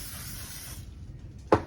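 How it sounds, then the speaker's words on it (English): A short hiss of cooking oil spray from a can close by onto breaded fish, lasting under a second, then a small clunk. "I'm going to spray the top of it with our spray"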